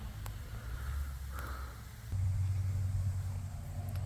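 Cummins diesel pickup truck cruising closer, a low rumble that grows louder partway through as it nears, with faint clicks and light background noise.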